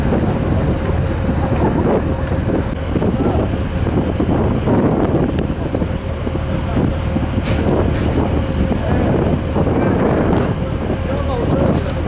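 Strong wind buffeting an outdoor microphone on a Scandinavian tour day, loud continuous rumbling gusts with a low roar and some faint background sound.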